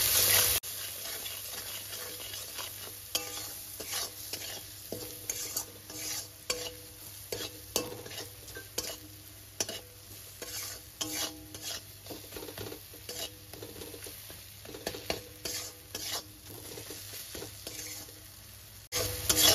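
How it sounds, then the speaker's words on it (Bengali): Ground turmeric and red chili powder are sautéed in oil over a low-to-medium flame for a fish curry. Soft sizzling runs under repeated, rhythmic scrapes and taps of a spoon against the pan, heard up close. "সমস্ত মশলাকে খুব ভালো করে কষে নেব।"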